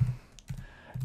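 Keys pressed on a computer keyboard while entering a date into an office software filter, a few soft, low taps in short bursts separated by brief pauses, close and quiet.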